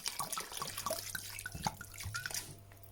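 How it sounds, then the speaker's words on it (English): White wine is poured into a pot of stock for a French choucroute, making a steady splashing liquid pour that runs close and continuous for about three seconds with no talking. "And I'm going to add equal quantity of white wine."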